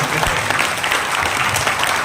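An audience at a staged folk drama performance gives loud, dense applause for the performers, a continuous close wash of clapping with faint voices mixed in.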